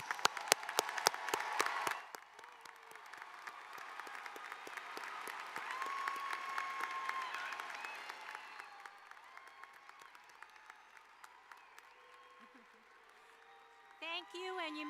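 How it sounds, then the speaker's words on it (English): An audience at a Portland State University 2024 commencement applauds Latin honors graduates, dense clapping at first that thins into sparser claps while crowd murmur and voices carry on underneath. "Please give these students a round of applause."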